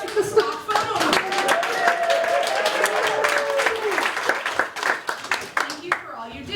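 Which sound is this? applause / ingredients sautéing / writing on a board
applause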